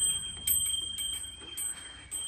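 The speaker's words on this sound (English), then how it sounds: "you'll know the sound of that bell very well" A studio door bell at a yarn shop rings with bright, sustained high tones, struck several times in irregular succession, each strike leaving a ringing decay, close by with no talk.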